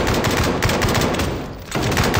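Enemy automatic gunfire in the SCP 5k video game, a loud, dense rapid rattle of shots that briefly drops out before resuming.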